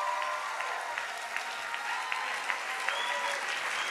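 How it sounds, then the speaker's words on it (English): A conference audience gives a round of applause, a steady mass of clapping with a few sharper, evenly spaced claps standing out above it. "Give me a big round of applause."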